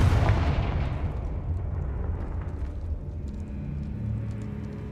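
A Confringo spell blast in the Hogwarts Legacy video game sets off a loud, deep boom at the start, then a rumbling roar that stays heavy and dense, with no talking.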